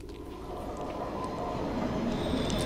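A train rolls past in the horror game Cry of Fear, a steady, fairly quiet rumble that builds slightly over a few seconds with no talking.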